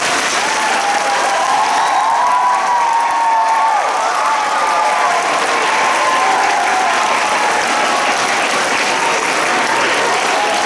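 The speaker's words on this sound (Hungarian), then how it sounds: "egy nagy tapssal köszönjük meg Anikó néni, a két Anikó néninek" A school competition audience gives sustained, dense applause, many hands clapping steadily at full volume for about ten seconds with no pause.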